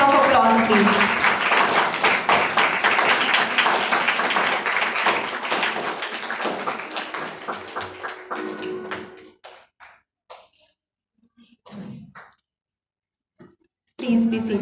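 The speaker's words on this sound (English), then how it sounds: "I request everyone to please stand and welcome them. With a big round of applause, please" A hall audience applauding to welcome chief guests at a Women's Day celebration: dense, loud clapping that thins to scattered claps and brief murmuring voices, then fades to near silence before a voice resumes.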